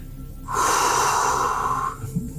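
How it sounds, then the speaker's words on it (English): One long, forceful breath lasting over a second is drawn or pushed out close to the microphone as a deep, airy rush with a hoarse edge, surrounded by quieter background noise. "Good deep breaths."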